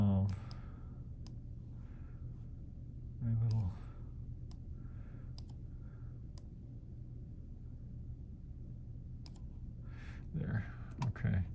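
Sharp, isolated mouse clicks tick at irregular intervals over a low hum while someone works through a Cadwell recording program, with a voice talking briefly between them.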